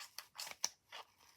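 Scissors snip across macrame cord in a few quick, close, quiet cuts, each a short crisp crunch.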